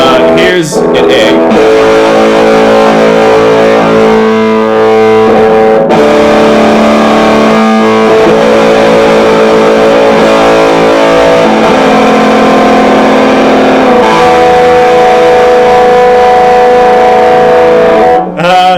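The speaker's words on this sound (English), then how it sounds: "Distortion does sound good on this guitar." A 1980s Yamaha EG112 Stratocaster-style electric guitar strums sustained distorted chords, loud and thick, ringing out with a few changes and breaks.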